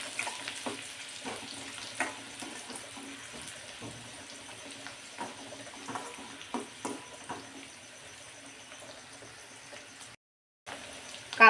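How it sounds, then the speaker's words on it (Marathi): Finely chopped medium onion frying lightly in oil, a soft steady sizzle with scattered small pops and the occasional scrape of stirring, fairly quiet throughout. "कांदा हलकासा तेलावरती परतून घ्यायचा आपल्याला।"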